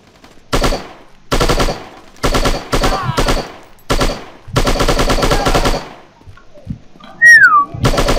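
Bursts of video game gunfire from the mobile shooter Striker chapter 2, loud and close, come as repeated automatic volleys with short pauses between them, and a brief whistling tone follows near the end.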